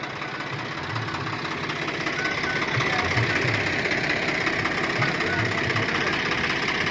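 A tractor engine idles steadily, hitched to a 12-foot trolley on a farm; a close, continuous mid-pitched rumble with a rough knocking pulse runs unbroken throughout.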